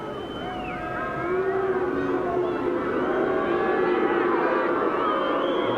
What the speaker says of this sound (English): booing Eastwood as he moves in